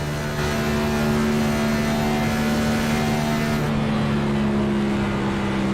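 A Cup Series race car engine at Chicagoland Speedway holds a steady high-pitched drone, with the sound cutting sharply as it bounces off the rev limiter partway through.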